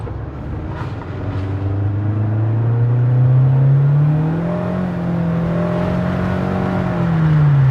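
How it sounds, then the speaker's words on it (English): A car with a CVT accelerating and then lifting off the throttle, heard from inside as a loud, smooth engine drone whose pitch rises steadily, levels and eases back without shift breaks, over constant road noise. "we're gonna drive it, and we're gonna show just giving it some gas and letting off how smooth it kind of goes into a taller gear as the CVT spreads out"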